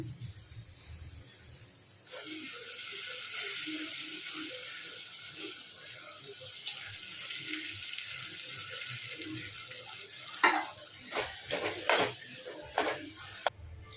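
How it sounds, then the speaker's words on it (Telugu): Soaked moong dal fries in oil, giving a steady hissing sizzle from about two seconds in, with clattering utensil knocks and scrapes toward the end, close and moderately loud. "ఈ పప్పును ఆయిల్లో 2 నిమిషాలు ఫ్రై కానివ్వండి."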